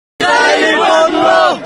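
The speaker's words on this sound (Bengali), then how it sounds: "ফিলিস্তিনের স্লোগান উঠছে, ফিলিস্তিনের স্লোগান দেখা যাচ্ছে।" A large crowd at a March for Gaza rally chants pro-Palestine slogans, massed voices loud and sustained for nearly two seconds with a brief dip near the end.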